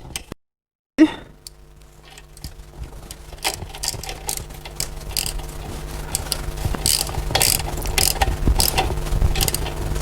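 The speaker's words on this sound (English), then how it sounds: "You take a spanner, then close it." A spanner ratchets on a suspension bolt in a workshop. After a brief silence, steady, rapid mechanical clicking builds and continues with scattered metallic ticks.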